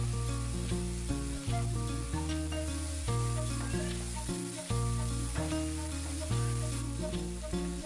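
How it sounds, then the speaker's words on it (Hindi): Ground onion and tomato paste fry in a pan for a chital (clown knifefish) curry, with a steady sizzle running throughout under prominent rhythmic background music, no voices. "इसे भी हल्का भून लेंगे।"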